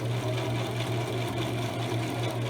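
A sewing machine stitches fabric for a pillow cover, running with a steady, fast mechanical whir and rhythmic needle chatter throughout, close and continuous with no talking.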